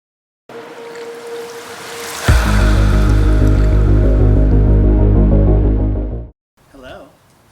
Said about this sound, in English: I'm trying to pour my tea into this bucket and mine fill it over to the garden